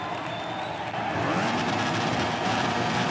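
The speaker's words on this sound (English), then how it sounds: "The riders are lined up, the engines are revving." Motorcycle engines on the starting grid of the Spanish Grand Prix at Jerez de la Frontera, from the video game VR46, make a dense, steady roar of revving that rises slightly partway through, with no voices.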